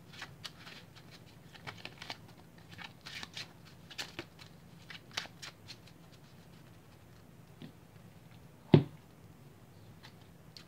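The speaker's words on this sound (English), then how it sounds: "See how good the second hand would be after I shuffled this." A deck of Yu-Gi-Oh cards is riffled and shuffled by hand, with soft, quick papery bursts repeating for several seconds and one sharp tap near the end, fairly quiet with no talking.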